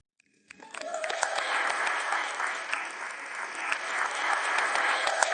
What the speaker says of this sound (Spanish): Y otra vez no sé por qué están aplaudiendo.